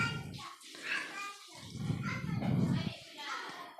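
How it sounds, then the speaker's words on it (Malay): Water poured and splashed into a washing machine drum for rinsing, with bursts of pouring and sloshing through the clip while someone talks over it. "Kita ambil air sikit."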